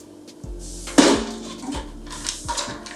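An Instant Pot lid handled in a kitchen, a sharp metallic clank followed by a few lighter knocks and rattles, close and moderately loud, with no voices.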